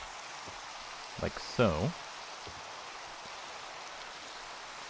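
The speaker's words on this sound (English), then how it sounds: "the rain is so loud" Minecraft rain falls in a steady, broadband hiss across the whole stretch, with a short spoken phrase rising briefly above it.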